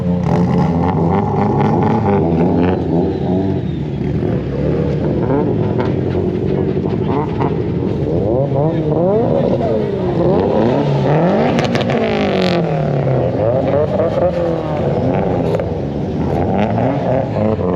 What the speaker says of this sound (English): Never seen so many drift cars in one place